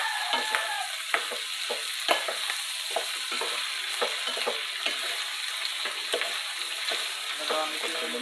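Pork for Bicol express frying in a pan while being stirred: a steady, close hiss of sizzling fat broken by repeated scraping strokes of the utensil, with no voices.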